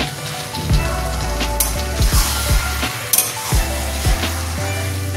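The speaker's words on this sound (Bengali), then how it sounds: "চিনিটা যতক্ষণ না মিশে যাচ্ছে ততক্ষণ নাড়তে থাকবো" Cabbage and shrimp ghonto sizzles in a pan while a utensil stirs it, scraping the pan in irregular strokes, with a steady frying hiss underneath and a few sharper clinks.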